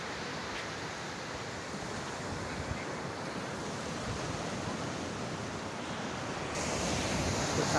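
Sea waves wash in steadily at Ramnagar beach near Diglipur in North Andaman, a continuous hiss of surf mixed with wind noise on the microphone that swells slightly louder toward the end, with no voices.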